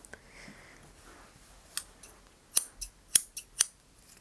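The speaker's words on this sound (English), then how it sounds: "you're going to hear scissors around your hair" Scissors snip close by in a quiet room, a few isolated cuts and then a quicker cluster of sharp, crisp snips.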